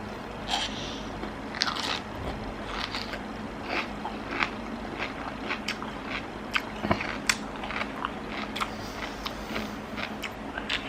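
Plain sea grapes seaweed is bitten and chewed close to the mic, with a run of crisp little pops and crunches scattered over soft mouth sounds, heard alone.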